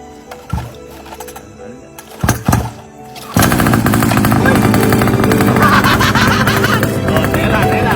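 Scattered knocks and thuds give way to a big bike's engine roaring to life, a loud, sustained, rough rumble that holds steady to the end.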